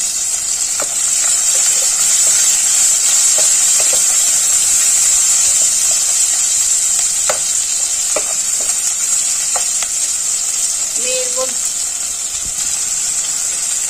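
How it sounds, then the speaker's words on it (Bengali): Chopped onions fry in a pan for egg tarka, giving a loud, steady sizzle throughout with occasional soft stirring clicks and scrapes near the end. "পেঁয়াজ কুচিগুলো একটু ভাজা ভাজা হচ্ছে"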